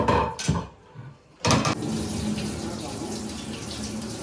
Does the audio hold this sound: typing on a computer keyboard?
no